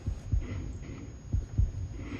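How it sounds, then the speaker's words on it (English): Heartbeat Foley effect from a television drama, deep low thumps in paired beats repeating steadily, with a thin high ringing tone held above them. "This is the Foley here with the heartbeat and the ringing is a nice touch."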